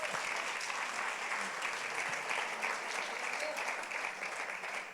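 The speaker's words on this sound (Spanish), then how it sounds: "Dele un aplauso al Señor." Women's retreat congregation at a Spanish-language church service claps in dense, continuous applause, fairly distant and even in level from start to finish.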